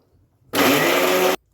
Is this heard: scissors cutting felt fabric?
no